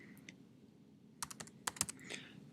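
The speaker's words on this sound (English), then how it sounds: "If my name was Fred Flintstone, I might type that in." A name being typed on a computer keyboard: a few soft key taps, then a quick cluster of sharper clicks, close and quiet, with no talking.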